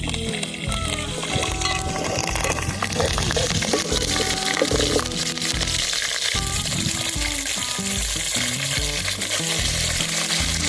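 Curry leaves frying in hot oil, a loud continuous sizzle and crackle with occasional stirring scrapes, close and steady throughout, cooked outdoors.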